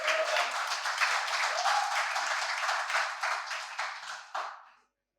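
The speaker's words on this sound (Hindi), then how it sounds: "तो एक बार फिर आप अपने खुद के लिए एक तालियां बजाएं प्लीज।" An audience at a poetry event applauding, a brisk, even burst of many hands clapping that holds for several seconds, then thins and stops abruptly.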